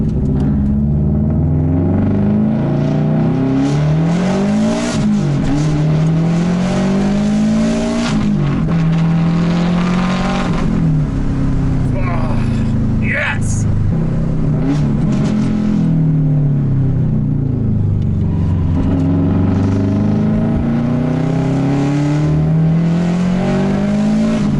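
Tuned Subaru with big power modifications pulling hard through the gears on a street, a loud continuous engine roar that rises in pitch, drops briefly at each shift and climbs again, heard from inside the car.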